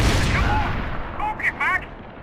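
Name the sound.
gunfire in video game Max Payne 3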